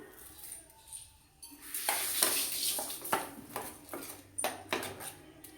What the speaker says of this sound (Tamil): நல்லா ஃப்ரை பண்ணணும்